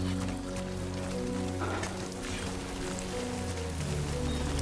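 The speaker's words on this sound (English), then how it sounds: "Great. Rain. Gotta move." Rain pours steadily in the game Death Stranding 2, a dense constant patter on surfaces that fills the scene at close range without speech.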